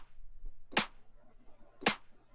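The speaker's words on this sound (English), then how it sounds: "I played that clap sound and I played the snare sound at the same time." Clap and snare drum samples triggered together from a keyboard in a drum-building lesson: two loud, sharp, noisy layered hits about a second apart, each snapping out cleanly over quiet room hum, no talking.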